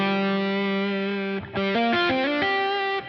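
An electric guitar runs through a Boss Line Selector pedal with both loops mixed, giving a thick, distorted tone; a long sustained chord rings, then a short run of changing notes plays, loud and close with no talking.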